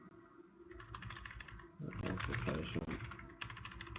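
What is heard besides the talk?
typing on a computer keyboard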